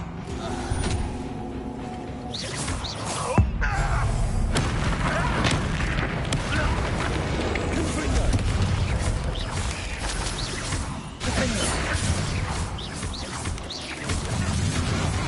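A booming Confringo fire-spell blast from the Hogwarts Legacy video game rolls out over dense, continuous game combat noise, with a sharp hit near the start and a steady loud rumble throughout.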